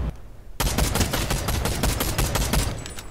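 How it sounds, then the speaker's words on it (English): Fireworks going off at a party in a video game: after a brief quiet lead-in, a dense, loud volley of rapid crackling pops and bangs bursts out and keeps going. "Firework party, awesome."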